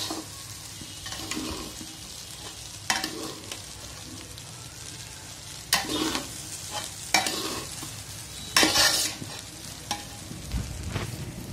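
Fried rice is stirred and tossed in a hot pan: a soft sizzle underneath, punctuated by several loud scraping and clattering bursts of the spatula, close up, with no voices.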